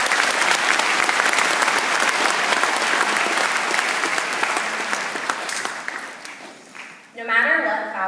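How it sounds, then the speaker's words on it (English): A crowd at a high school graduation gives a round of applause, dense clapping that sustains for about six seconds and then tapers off as a voice begins speaking. "Let's give them a round of applause."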